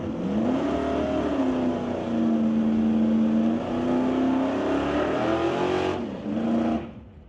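A 2002 GMC truck racing down a street-legal drag strip roars loudly, engine pitch climbing through gear shifts before cutting off near the end.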